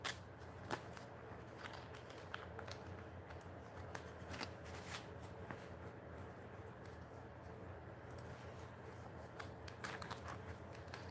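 A deck of cards for the Don't Talk To Strangers party game being shuffled, quiet repeated riffling and soft clicking snaps spread across the span, faint and close with low room hum.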